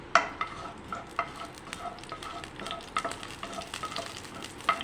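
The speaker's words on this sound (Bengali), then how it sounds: "লতি চিংড়ি ভাজা করব, তো গোটা শুকনো লঙ্কা দিয়ে দিলাম।" Whole dried red chillies frying in oil, a steady close crackle and hiss punctuated by several sharp metallic clicks of a spatula stirring in the pan, with no voices.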